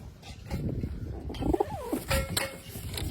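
A pigeon sitting on its eggs coos softly at close range, a couple of low gliding calls over faint background rustle and ambient noise.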